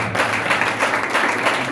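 A church congregation applauds and cheers in acclamation during a charismatic worship service, steady dense clapping mixed with crowd voices for the whole stretch.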